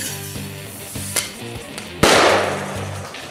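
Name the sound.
distraction grenade thrown and exploding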